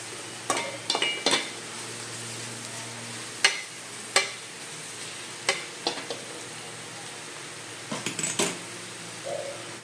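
Noodles cook in a pan under a soft continuous sizzle, punctuated by sharp metallic clinks and scrapes of a utensil against the pan in irregular bursts, with no voice.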